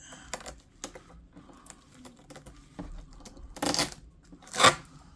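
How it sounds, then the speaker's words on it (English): Protective stickers being peeled off the outside of a Nuwave Brio X-Large air fryer oven, heard as scattered close crackling taps and two louder tearing rips toward the end, with no talking. "Once you remove these stickers on the outside, kind of like that. So you just gotta peel it."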